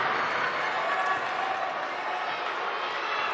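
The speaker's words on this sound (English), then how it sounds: "listen to this crowd" Crowd at a high school basketball game in a North Broad gym roars and cheers steadily after a slam dunk, a loud continuous wall of voices with no break.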